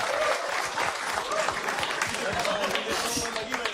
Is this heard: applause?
yes